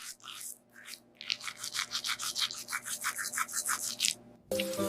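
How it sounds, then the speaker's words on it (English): A toothbrush scrubs briskly back and forth against teeth in a rapid, rhythmic rubbing that runs close and clear for several seconds, ending with a brief clatter. "I brush my teeth."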